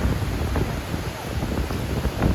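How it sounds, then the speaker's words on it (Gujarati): Strong wind buffets and roars across the microphone in continuous gusts during a rainstorm in a village, loud and close, with no clear voices. "બહુ પવન છે"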